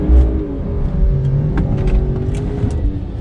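A stock BMW 335i idles and revs at a quarter-mile drag strip, giving a loud, close engine rumble with rising and falling revs and some clicks and rattles on top.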